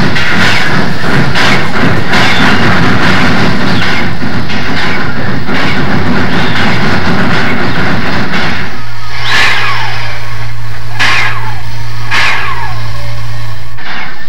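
Southern Pacific cab forward steam locomotive 4274 moves out of a siding in Sacramento, its heavy rumbling and clanking loud throughout, then a steady low tone and sharp whistle-like squeals in the final seconds.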